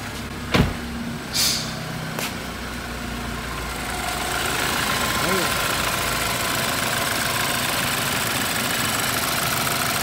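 A couple of sharp clicks and a brief crank, then the engine of a 2013 BMW 328i 2.0 turbo catches after a crankshaft sensor replacement and settles into a steady rough idle that continues to the end.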